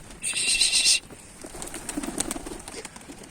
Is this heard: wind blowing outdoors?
no